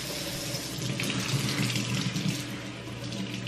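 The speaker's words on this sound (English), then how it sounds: "I'm scrubbing potatoes." Potatoes are scrubbed under a running kitchen tap, a continuous steady rush of water with slight shifts in texture, close and even, with no talking.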